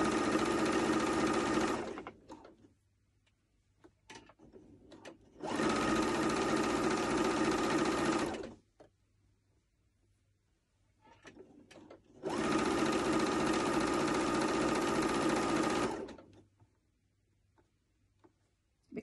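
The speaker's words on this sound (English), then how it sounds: "Take it to the machine. And then I'm going to just hem it." Sewing machine hemming stretchy fabric for a peplum top: three bursts of fast steady stitching, each a few seconds long, separated by quiet pauses with faint handling.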